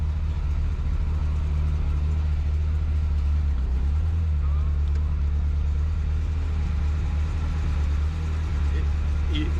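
A Ferrari F355 engine idles steadily with a deep, slightly uneven low rumble, close by and continuous throughout.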